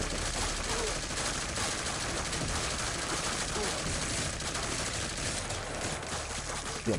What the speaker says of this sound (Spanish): tenemos una especie de ametralladoras pequeñas o algo así